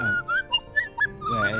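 Castle inhabitants in the video game Tails of Iron communicate by whistling, a series of short, bright, sliding whistle calls that rise and fall in quick succession, with faint low sounds underneath.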